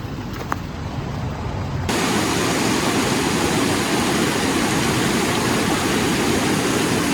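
River near a Mt. Hood campsite rushing in a dense, steady broadband roar that rises sharply after a quieter opening and then holds loud and close.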